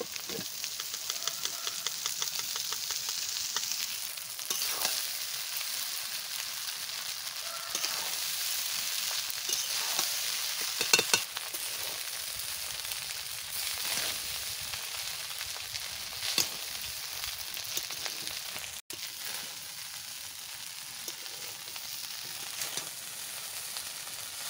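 Cooked rice stir-fried in a pan for fried rice, with a steady close sizzle running throughout and occasional scraping and tapping strokes of a spatula, no talking.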